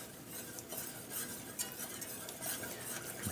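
Mac and cheese sauce being stirred as milk goes in, a steady soft scraping and sloshing of a spoon in a pot that continues without pause, close by, with no talk.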